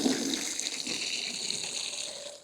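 Water pours steadily over a car headlight being rinsed after the first step of a Cerakote ceramic headlight restoration kit, a close, continuous gushing splash.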